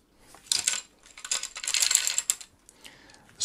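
A screwdriver working screws out of the fan shroud of an MLLSE Radeon RX580 SP2048 8GB graphics card, giving close, small metallic clicks and ratcheting scrapes in short bursts with brief pauses between them.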